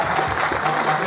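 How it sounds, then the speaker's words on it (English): An audience at a Play Expo Blackpool panel breaks into a brief burst of applause, a dense wash of clapping from the crowd filling the whole moment. "And round of applause for that gesture."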